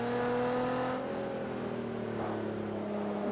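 Nissan GTR engine droning steadily through corners and hills of a Project Cars 2 race at the Nürburgring, a continuous mid-loud tone with shifting pitch as the revs rise and fall, no talk.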